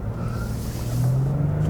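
A 2022 Nissan Frontier SV pickup with a 3.8-liter naturally aspirated VQ V6 accelerates, its engine drone steady and rising slightly in pitch, heard from inside the cab with road noise and no talking.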